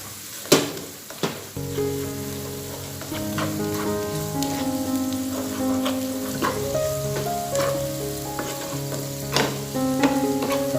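Small eggplants sizzle in a home stir-fry pan just after shrimp paste (terasi) goes in. A couple of sharp clatters open a steady frying hiss, with tonal background music underneath.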